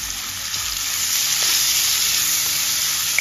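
Garlic and ginger sizzle steadily in hot oil as they are stirred, a close, even hiss lasting a few seconds with faint utensil touches and no talking.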